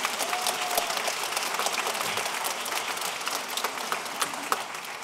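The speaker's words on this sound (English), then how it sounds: "So let's give a round of applause for our parent volunteers," An audience applauds at a middle school pop concert, steady crowd clapping filling the hall for several seconds, moderately distant and fairly quiet, with no one speaking over it.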